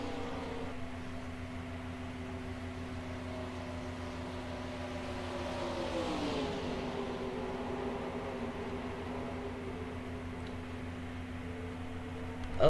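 Race cars in a NASCAR video game during a 2005 Southern 500 race, a steady, quiet engine drone with a brief pitch dip and swell midway, mostly alone.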